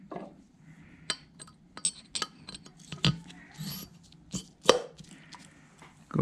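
Valves being set by hand into an LS 5.3L cylinder head during engine assembly, giving scattered close metallic clinks and light taps at an uneven pace over a quiet background.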